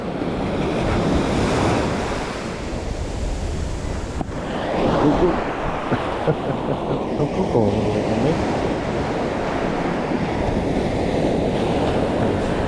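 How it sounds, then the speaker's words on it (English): Ocean surf rolls in steadily on the Atlantic at Jensen Beach, Florida, with strong wind buffeting the microphone throughout; a continuous broadband wash with no voices. "Jensen Beach, Florida, Atlantic Ocean"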